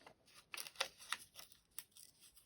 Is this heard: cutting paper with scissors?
yes